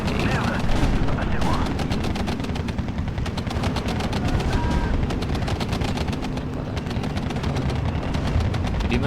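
Tank combat in the World War II strategy game Steel Division 2 produces a loud, unbroken stream of rapid gunfire with heavier booms mixed in.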